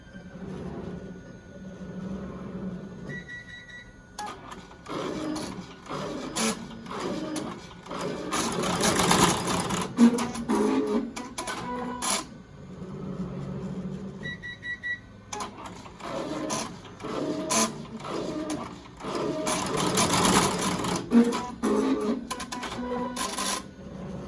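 A Melco commercial embroidery machine stitches a pleated fabric mask, running in a rapid, steady mechanical clatter with rhythmic needle hammering that swells and eases in cycles, plus brief pauses and small electronic beeps, all close and loud.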